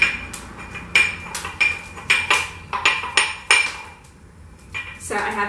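A mortar and pestle smashes black peppercorns in sharp, ringing strikes at a steady beat, close and loud, about eight blows followed by a softer grinding scrape.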